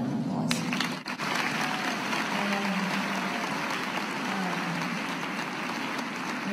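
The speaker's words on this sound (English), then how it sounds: "I think deserves another round of applause." Continuous applause from an audience at a campaign conversation with families in Haverford, Pennsylvania, a steady, fairly distant wash of clapping with no voices over it.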